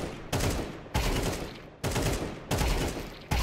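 Automatic gunfire in Counter-Strike 2 comes as five loud, close rapid bursts, each starting sharply and fading before the next, with short gaps between them and no talk.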